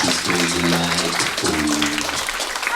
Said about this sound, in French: avec un tonnerre d'applaudissements, on va ouvrir la soirée maintenant.